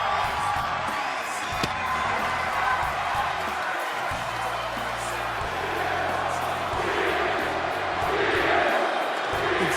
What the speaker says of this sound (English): Listen to the crowd chant this man's name.